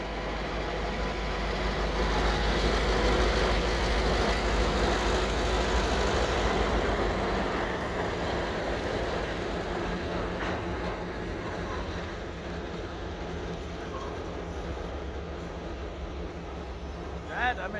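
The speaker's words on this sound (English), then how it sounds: "The Via train." A Via Rail passenger train passing at night in winter, a steady loud rumble and rail roar that peaks early then eases slightly, with wheel clatter throughout.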